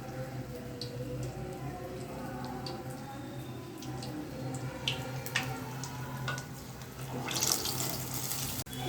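Urad dal vadai, lentil fritters, frying in hot oil: a steady close sizzle with scattered sharp crackles and pops, rising to a louder fizzing burst near the end.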